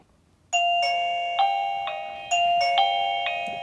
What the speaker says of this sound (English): if I hit the bell again